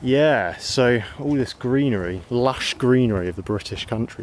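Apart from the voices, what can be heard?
None of the usual background noises is heard.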